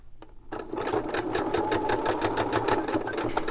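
A sewing machine runs a straight stitch in a quick, even mechanical patter, close and loud, starting after a brief pause and continuing steadily without talk.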